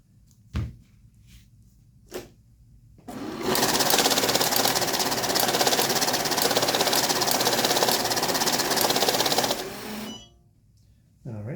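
A Kisan K2A bill counter runs a steady, loud whirring and fluttering burst of banknotes for about six seconds, sorting by face, preceded by a couple of soft clicks and ending in quieter mechanical settling.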